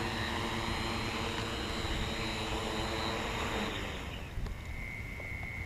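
A Jeff Glover F5u RC model airplane's electric motor whines steadily and fairly faintly as it comes in to land, then the whine drops lower and thins out near the end.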